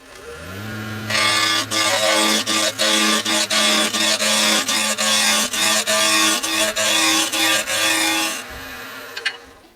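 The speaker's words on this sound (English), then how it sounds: "now it's time to turn that lathe on, and I'm going to use a spindle roughing gouge" A spindle roughing gouge cuts end grain on a spinning wood lathe, giving a loud, close, raspy hiss broken into a fast, regular chatter as the tool bites the workpiece, then stopping abruptly near the end.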